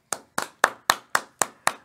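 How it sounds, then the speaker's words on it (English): Seven sharp hand claps in a steady, brisk rhythm, close and distinct with quiet gaps between them, from a single person rather than a crowd. "A round of applause from your homes for Mr. Matt Burke."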